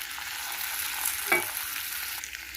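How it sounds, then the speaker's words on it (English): Potatoes are stirred in a frying pan with a steady frying hiss and one distinct scraping clatter of the spoon midway, close and fairly quiet with no talk. "I'm going to mix the potato"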